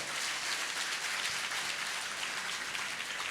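Audience applause at a motivational session for JEE/NEET students, a steady, hissy wash of many hands clapping heard from a distance, even in level throughout.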